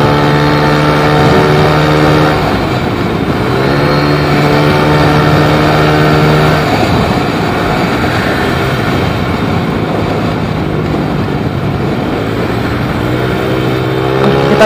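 A fuel-injected Yamaha Lexi 155cc scooter engine is revved hard several times, close and loud, with its pitch climbing and dropping between repeated throttle blips.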